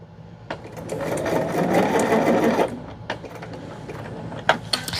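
A sewing machine stitching a quilt block for a diamond-pattern block-of-the-month quilt, running in one close, steady burst of about two seconds, then stopping amid light clicks and handling sounds.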